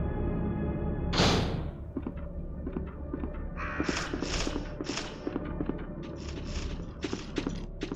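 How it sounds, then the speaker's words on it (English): Crows caw harshly in the 1998 survival horror game Resident Evil 2, several loud croaking calls in a flock, with creaks and footsteps mixed underneath. "Oh, flock of those crows."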